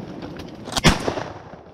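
A single shotgun blast while duck hunting for mallards on a river, a sharp loud crack standing out briefly over quiet outdoor background.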